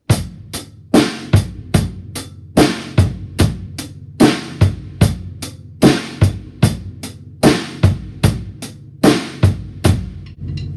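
A drum kit plays a steady rock beat, alternating kick and snare hits with a regular pulse of eighth notes, loud and close, without any talking.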